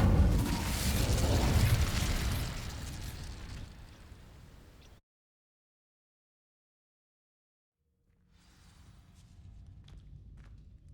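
Incendio fire spell in Hogwarts Legacy sets dry vines alight, a loud burst of roaring flame that fades over a few seconds, then silence before faint crackling ambience returns.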